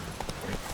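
The Witcher 3 horse's hooves give a few quick clip-clops in a brief burst, close and moderately loud.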